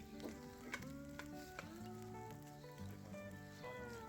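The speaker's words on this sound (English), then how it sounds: "go in with your rice, break it up, fry it off." Cooked rice sizzles steadily as it fries in a hot pan for Hawaiian smoke meat fried rice, a close, constant hiss with stirring clatter, while a tonal hum runs underneath.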